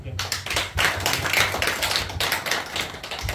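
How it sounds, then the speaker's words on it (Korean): A church congregation claps together during a Sunday morning worship service, giving brisk, close, rhythmic claps that come in pulses with brief dips, while voices mix in underneath. "우리 박수로 영광 하나님께."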